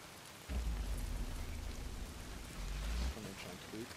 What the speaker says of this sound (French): Là il pleut un petit peu.